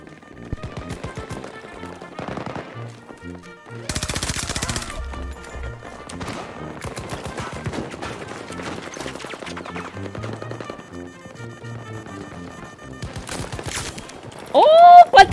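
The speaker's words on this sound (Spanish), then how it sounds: "La torreta me cubre." Sustained machine gun fire from a mounted turret in the shooter Battlefield 2042, loud and near, with rapid bursts and a few heavy blasts over about fifteen seconds, while someone talks over it.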